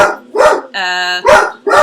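Loud, close barking alternates with a sustained, nasal whining tone, a few short sharp barks in quick succession.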